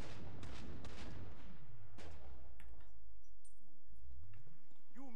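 Gunfire in a zombie-shooting video game: loud rapid shots and heavy booms dominate the first seconds, then thin out into scattered impacts and game effects.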